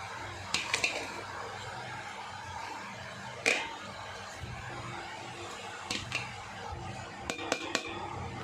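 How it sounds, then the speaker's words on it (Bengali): Food in a cooking pot, with ghee and whole garam masala tempering added, is stirred well. Scattered metallic clinks and knocks of a spoon against the pot sound over a steady low background hum, with no voices. "এবার এটা আমি ভালো করে নাড়াচাড়া দিয়ে নেবো"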